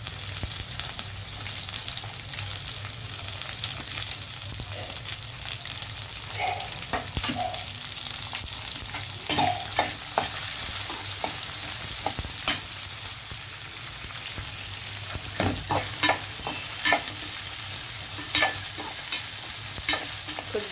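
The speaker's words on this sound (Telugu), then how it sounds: "ఇప్పుడు ఉల్లిపాయలు వేసాను." Sliced onions sizzle in hot oil with garlic and dried red chillies, a steady crackling fry punctuated by repeated scraping and stirring strokes of a spoon against the pan, close and moderately loud.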